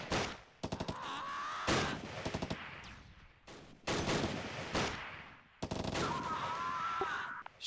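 Gunfire in the war game Close Combat: Last Stand Arnhem comes in sharp bursts of rapid automatic shots and single cracks, separated by short pauses and echoing tails, loud and close.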